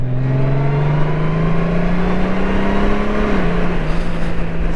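A Honda Goldwing DCT motorcycle accelerating hard, its engine tone rising steadily from a close, loud drone and then dipping briefly in a smooth automatic gear shift before climbing again, with no talking.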